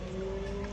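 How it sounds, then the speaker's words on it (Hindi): A sports motorbike passes at a distance, its engine a steady, faint drone lasting less than a second. "बाइक अभी जा रही है, कोई स्पोर्ट्स बाइक जा रही है।"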